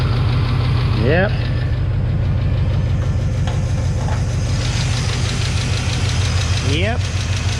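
A 6.0L LS V8 swapped into an S10 idles close and loud with a steady, rhythmic knocking or piston-slap tick under the rumble, and two brief rising squeaks.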